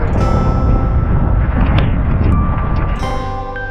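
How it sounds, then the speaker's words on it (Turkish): Heavy, continuous roadside traffic rumble with engine drone and tonal whines from vehicles passing close, loud and unbroken throughout. "Yol kenarı olduğu için arka taraftan çok arabalar geçiyor."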